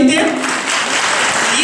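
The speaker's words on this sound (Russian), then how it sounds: "Аплодисменты." An audience at a March 8 celebration in a village applauds after a quiz answer, a short, loud burst of clapping that starts just after a brief voice and fills the rest of the moment.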